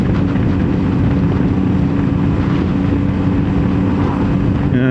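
A Zontes ZT 703F adventure motorcycle in economy mode drones steadily at about 53 mph and 3,800 rpm. The engine tone is loud and constant, mixed with wind roar, and no talking is heard.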